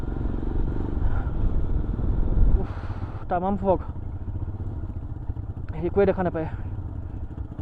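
A Royal Enfield Himalayan motorcycle rides a foggy mountain road, its engine a steady low rumble running throughout while a rider talks over it.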